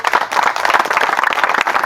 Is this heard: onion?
no